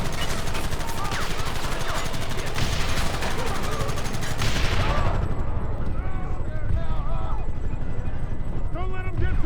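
A Red Dead Redemption shootout with enemies behind rocks, a loud, dense fusillade of rapid overlapping gunshots for several seconds, thinning into scattered sharper shots, with shouted voices briefly over the fire.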